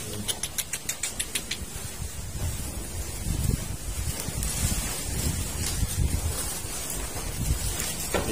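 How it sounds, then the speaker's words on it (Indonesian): Wind blows outdoors by a cattle shed on a farm, buffeting the microphone in a rough, continuous low rumble after a quick series of clicks or taps at the start. "Angin."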